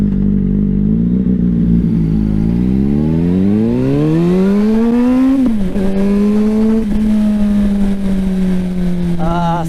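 A car engine rises steadily in pitch as it accelerates, then drops sharply at a gear change and settles into a steady cruising hum, loud and close, with a voice in the cabin.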